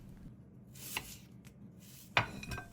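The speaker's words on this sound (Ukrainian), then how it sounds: "беремо дощинку та нарізаємо цибулю кільцями" A knife slices onion into rings on a wooden board, a few sharp crisp chops spaced irregularly, close and clear with no talking.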